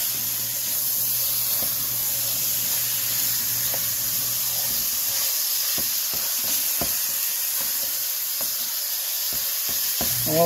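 Beef and sausage sear in a lightly oiled pan, giving a steady close sizzle and hiss with several sharp scraping and stirring clicks in the second half, with no talking.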